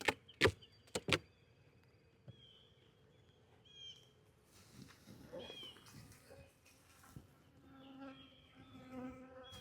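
Bees buzz steadily around an opened nuc hive, a close, wavering hum with individual insects passing near, after a few sharp knocks as the hive is handled at the start.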